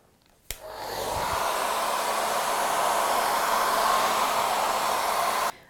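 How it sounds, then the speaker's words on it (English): A hairdryer drying a watercolor painting switches on with a click and blows steadily as a loud, broad whooshing roar, then cuts off abruptly near the end. "now I'll dry it with a hairdryer just to make sure it's completely"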